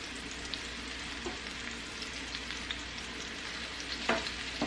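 Meat for gravy begins to cook in a pan with a steady, moderate sizzle and faint crackling, plus a couple of light scrapes, and no one speaks.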